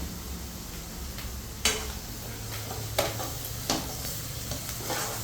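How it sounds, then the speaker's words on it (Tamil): Freshly ground Chettinad masala sautéing in a pan for mushroom masala, a soft steady sizzle with three or four sharp scraping stir strokes, close and fairly quiet, without speech. "நமக்கு இன்னும் கொஞ்சம் வதங்கட்டும்"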